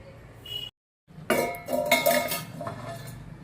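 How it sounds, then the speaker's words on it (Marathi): A metal lid clatters onto a pot of sweet coconut rice, with a sharp clink and a few rattling knocks after a brief silence, close and fairly loud, and no voices. "आपण त्याला झाकण लावून ठेवूया एक पाच मिनटं"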